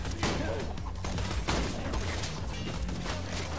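Sustained weapon fire from Borderlands 2, a dense, loud barrage of overlapping shots and blasts running through the whole stretch with a few sharper peaks, no clear pauses.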